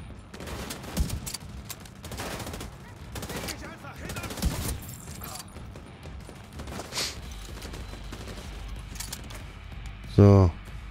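Bursts of gunfire ring out in the shooter game The Division 2 during a fight in an underground car park, scattered shots and short volleys with a loud burst near the end, under excited talk.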